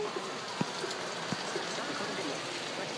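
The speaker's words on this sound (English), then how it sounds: "It's a hard rain." Heavy rain pours down in a steady, dense hiss with a few sharper drops and knocks standing out now and then.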